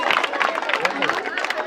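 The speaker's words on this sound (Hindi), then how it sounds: "जोरदार ताली" Loud applause and crowd noise break out for a correct quiz answer at a gathering of students, a dense burst of clapping with voices mixed in throughout.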